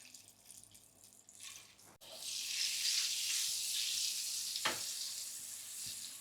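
Boiled eggs fry in oil in a pan over a low flame, spiced with salt, turmeric and chilli, giving a steady close sizzle that swells sharply after a brief clatter and holds loud to the end.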